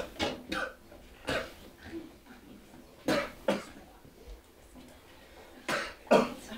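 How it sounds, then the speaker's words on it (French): A person coughs in several sharp, hoarse bursts spaced a few seconds apart, close and fairly loud against a quiet room. "Je le tousse."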